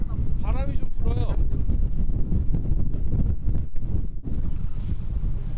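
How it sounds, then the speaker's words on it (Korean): Wind gusts at sea over a small fishing boat off Moseulpo, a loud, continuous blustery roar with water wash and clatter. Someone speaks briefly at the start. "바람이 좀 불어요."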